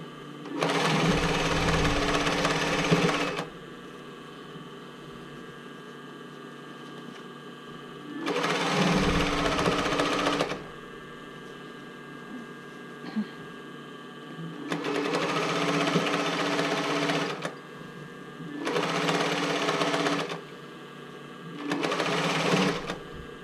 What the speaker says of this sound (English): let's go around, stitch around the edges, just right on the edges to kind of hold the two pieces together